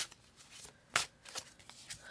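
Oracle cards being shuffled by hand, a soft close riffle of papery flicks with one sharper snap as a card is drawn, quiet and without talk.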